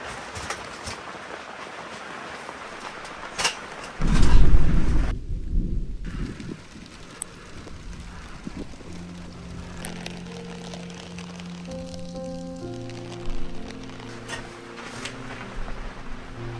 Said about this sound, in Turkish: Gerçi yağmur yağmaz demiştim, o da yağdı.